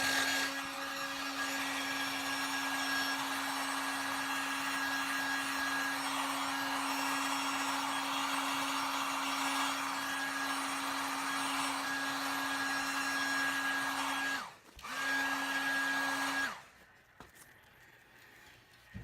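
A heat gun blows steadily on boot polish applied to a boot, making a loud close whirring roar with a constant hum that dips briefly, resumes, then cuts off near the end.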